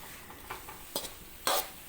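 Short bursts of sizzling and scraping as shrimp are stirred in a hot pan, with a louder hiss near the end, fairly quiet overall.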